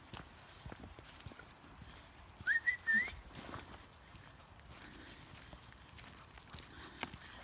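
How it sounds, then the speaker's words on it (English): A short, faint human whistle of a few rising notes calls dogs outdoors in the dark over quiet background rustle and soft footfalls. "That's just a whistle to tell the dogs"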